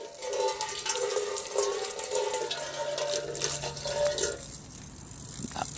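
Water rinses over a Tecumseh lawn mower carburetor, a steady broadband splashing and trickling from running water that stays fairly loud and close, thinning out near the end.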